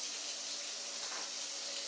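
Water runs from a kitchen tap to rinse vegetables, a steady, soft, continuous hiss with no break and no voices.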